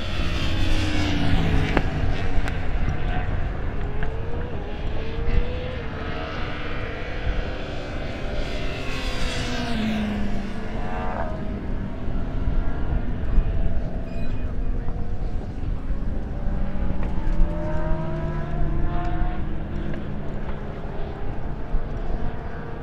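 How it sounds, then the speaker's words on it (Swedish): Superbike motorcycles at Anderstorp during 2022 qualifying, roaring and revving through practice starts on the race track, with loud, continuous engine noise and rising and falling pitch sweeps as bikes pass. "Flera förare provar att starta lite grann och det är ju aldrig fel att göra en provstart."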